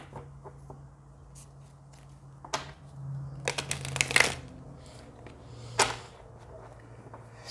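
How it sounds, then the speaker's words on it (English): Tarot cards being shuffled by hand produce a few soft riffling and slapping bursts, sparse and fairly close, over a faint steady hum. "I'm going to shuffle a little bit more"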